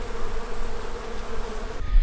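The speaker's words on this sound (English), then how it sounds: "These bees are really nice and active today." Honeybees swarm around spring hives in an apiary, a dense, continuous buzzing close by and fairly loud, with no voices.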